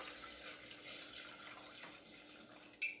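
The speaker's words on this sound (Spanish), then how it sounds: "Y vamos a echarle también medio litro de agua." Half a litre of water poured into a Thermomix jug, giving a steady, continuous trickling splash for a few seconds that ends with a small clink.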